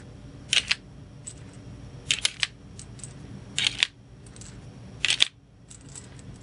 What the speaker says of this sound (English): I'm going to load this 20 round Colt mag.